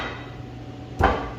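Metal bars drop into a routed slot cut with a Dewalt router, giving one sharp knock that briefly rings out, with a steady low hum underneath.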